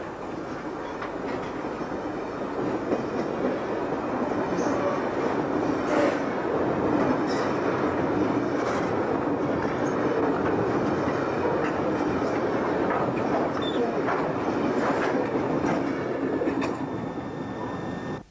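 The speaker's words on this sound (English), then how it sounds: "This is the same train we saw in the station." A train rumbles past steadily for the whole stretch, wheels clattering and squealing faintly over a constant loud roar, close to the listener.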